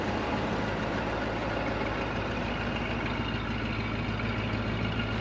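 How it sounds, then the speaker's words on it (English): A 1958 Ford Thunderbird's V8 idles steadily, a low, even rumble held close and constant with no revving and no one talking over it. "Of course, that classic V8 sound."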